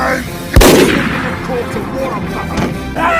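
A video game gun is wound up and then fired, giving one sharp, loud blast followed by a decaying rumble, with a fainter second report and a background whir.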